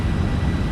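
A TFDi MD-11 jet climbing away from the runway in Microsoft Flight Simulator 2024, its engines a loud, steady low roar for under a second.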